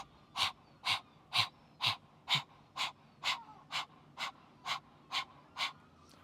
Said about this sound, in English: you are going to forcibly exhale with that tongue out